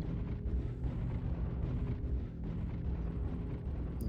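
Video game artillery strike: dense, continuous rumbling explosions roll together into one loud, sustained barrage with no pauses.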